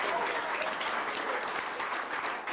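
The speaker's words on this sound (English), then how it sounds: "Give her another round of applause." Audience at a university class reunion clapping after a hypnosis act, a dense, steady burst of applause filling the room.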